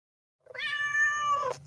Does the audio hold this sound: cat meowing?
yes